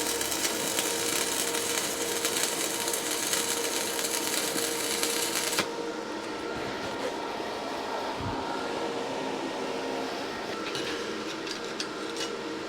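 A stick welding arc from an R Tech TIG 160 welder, with the rod jammed hard against the metal. It gives a loud, dense crackling hiss that drops abruptly to a quieter, rougher buzz partway through.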